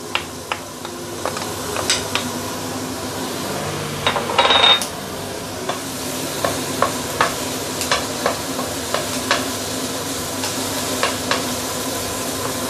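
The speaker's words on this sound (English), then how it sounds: "Okay, I'm going to put some oil. Let's saute the garlic." Garlic sautéing in hot oil makes a constant sizzle, with a spatula stirring and scraping the pan at intervals and a short, louder burst of hiss partway through.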